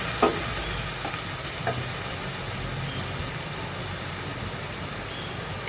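Green chili and onion paste frying in a pan, giving a steady, close hiss of sizzling with a couple of brief soft scrapes near the start and no voices.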